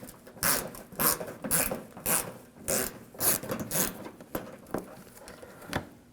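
A 7mm socket turning out a screw in the inner fender well of a 2007-2013 BMW 328i, with a series of close, regular ratcheting bursts spaced about half a second apart.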